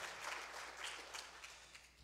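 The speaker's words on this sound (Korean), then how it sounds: "우리 한번 큰 박수 해주시죠" Audience applause for a church choir at a Korean Methodist church revival service, a steady wash of many hands clapping at moderate distance, fairly soft and even throughout.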